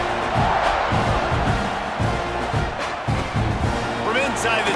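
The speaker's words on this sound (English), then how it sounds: "this crowd is buzzing after that last score." A large football stadium crowd buzzes and roars steadily after a score at a Texas game, a dense continuous wash of cheering and shouting beneath a commentator's voice.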